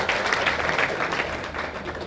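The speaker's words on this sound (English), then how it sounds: "Please give your wonderful applause." Steady applause from an audience welcoming the chief guest at the inauguration of a literary association at the University of Madras, a continuous, fairly loud wash of clapping throughout the short stretch.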